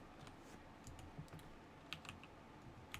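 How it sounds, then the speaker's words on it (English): Computer keyboard typing, a sparse run of soft key clicks at an irregular pace, faint and close against a quiet room background, with no speech. "I should buy a new keyboard."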